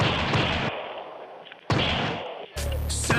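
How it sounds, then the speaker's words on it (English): A police trooper fires a handgun in a string of loud, close gunshots, each blast cutting off sharply, with roughly three heavy reports spread over a few seconds. "Trooper Wilson finds his target and pulls the trigger."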